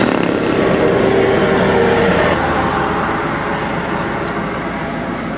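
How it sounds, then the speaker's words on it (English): A car passes along a foggy road, a broad loud roar of tyres and engine that peaks within the first two seconds and then slowly fades, with no talk over it. "Another car coming from here"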